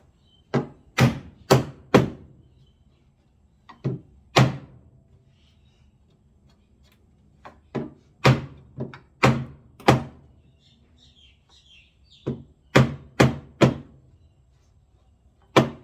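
Sharp wooden knocks in irregular bursts, pairs and triplets of hammer blows driving furniture legs into a wooden dresser, with short pauses between them.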